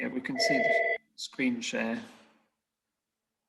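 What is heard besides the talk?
telephone ringing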